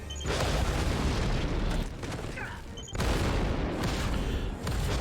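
Heavy explosions in the Star Wars: The Clone Wars animated series, loud booming blasts with rumbling debris that swell, dip briefly and surge again across several seconds.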